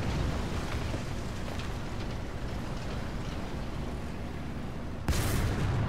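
A teammate's tank gun fires in War Thunder, sounding as one loud, abrupt boom near the end, cutting through a steady low rumble of engine and battlefield noise.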